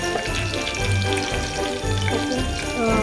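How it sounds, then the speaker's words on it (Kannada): Green chillies fry in hot oil in a pan, a loud dense crackling sizzle that runs continuously and close, with faint clinks mixed in. "ಮೆಣಸಿನ್ಕಾಯಿ ಫ್ರೈ ಆಗಿದೆ"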